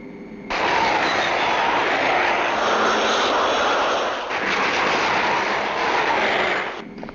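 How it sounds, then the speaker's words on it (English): A delta-winged, high-tail jet aircraft roars overhead, a loud sustained engine rumble that swells in abruptly, holds steady with a brief dip midway, then cuts off near the end. "She's delta-winged, high-tail plane."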